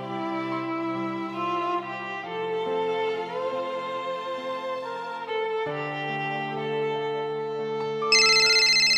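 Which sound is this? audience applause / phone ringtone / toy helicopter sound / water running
phone ringtone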